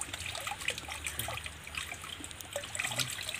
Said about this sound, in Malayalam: നമുക്ക് ആദ്യം നമ്മുടെ ഈ മീനെ നമുക്ക് നമ്മുടെ വെള്ളത്തിലേക്ക് നമുക്ക് റിലീസ് ചെയ്യാം